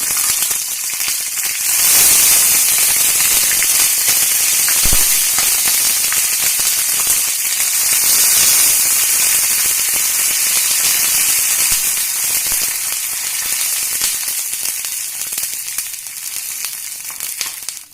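Boiling water poured into a hot pan while making Kerala mango pickle, a loud, sustained hissing sizzle that swells within the first two seconds and continues steadily, fading slightly toward the end, with no talk.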